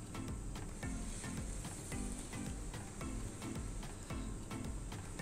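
Spice paste with cumin and coriander powder fries in hot oil for a chickpea dish, giving a steady, faint crackling sizzle with regular soft scraping strokes of stirring throughout.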